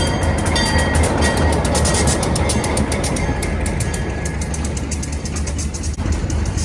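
A train rumbles loudly through the station at Durango, Colorado, with a heavy continuous roar and rhythmic wheel clatter close by throughout.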